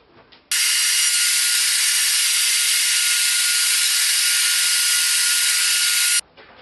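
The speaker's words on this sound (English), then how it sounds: "clamp this in a way that I hope is going to be solid enough to route it" Router cutting chambers into a Telecaster guitar body of wood, a loud, steady high-pitched whine that runs continuously for about six seconds, starting and stopping abruptly, close up with no talking.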